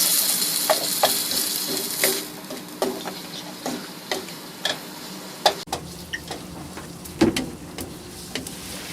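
Pineapple sautés in a pan over medium-high heat in a sailboat galley, giving a steady sizzle broken by sharp, irregular ticks and clicks of stirring close by.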